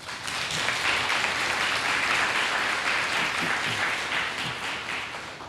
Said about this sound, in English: So I think all of you deserve a huge round of applause.